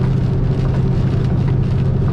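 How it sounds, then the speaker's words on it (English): Rain falls during a drive in a truck, a dense steady patter mixing with the loud low road and engine rumble of the cab, continuous throughout with no speech. "Rain's picking up a little bit right here."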